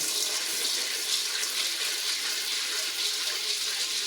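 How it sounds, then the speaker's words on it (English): Dried Great Northern beans rinsed under a running kitchen tap, a steady close rush of water splashing into a sink without pause. "You want to always go through your beans. I'm going to rinse them."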